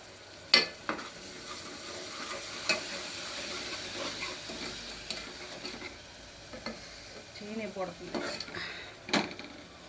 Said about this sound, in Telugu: అలా కలదిప్పుకోవాలి బాగా మొత్తం పెరుగు కూడా వేసిన తర్వాత